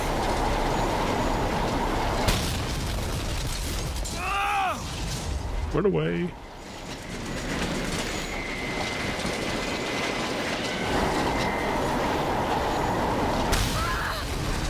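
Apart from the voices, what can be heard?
train riding along rail track in BioShock Infinite video game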